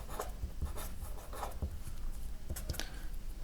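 A pen writing out a math solution by hand on paper, close scratchy strokes and taps in an irregular rhythm, steady and fairly quiet with no talk.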